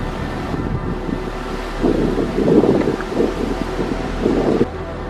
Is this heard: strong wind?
yes